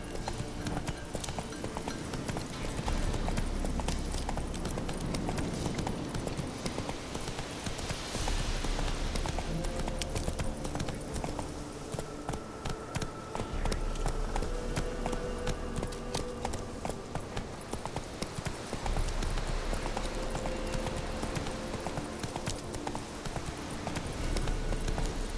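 Galloping horse hooves in The Witcher 3: Wild Hunt, a steady rapid clip-clop running continuously under game music and ambience, loud and close throughout.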